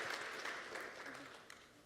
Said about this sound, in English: People are clapping because they relate with everything that you ladies have said.